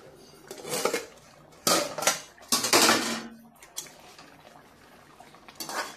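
Lid lifted off a covered pan of cauliflower cooking with green chilies and coriander leaves, a few loud metallic clanks and scrapes of lid and utensil in separate bursts, with quiet gaps between.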